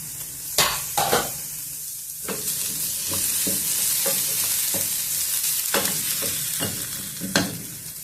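Radish pieces for radish chutney cook in a pan, a soft continuous sizzle broken by several sharp scrapes and clacks of stirring, close and clear with no voices.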